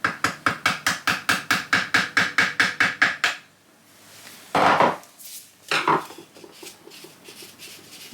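Quick metallic taps ring out in an even series of about fifteen on a slotted part of a Sachs 50/3 moped engine. After a pause come a few scraping knocks.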